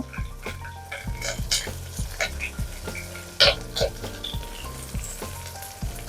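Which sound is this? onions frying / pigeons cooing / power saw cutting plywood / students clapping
onions frying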